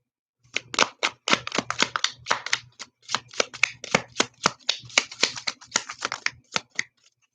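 Tarot cards being shuffled in a rapid series of crisp riffling snaps and flutters, close and fairly loud, with a faint low hum underneath and no talking.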